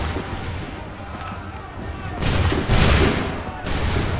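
Musket volleys crack in Assassin's Creed 3, two or three ragged bursts of many shots close together in the second half, following quieter battlefield noise, with shouted commands around them.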